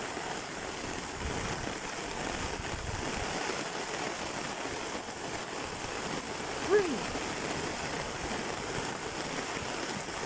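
Heavy rain pours steadily during a walk home after dark, a dense, even hiss of water lasting throughout with no breaks, close and enveloping.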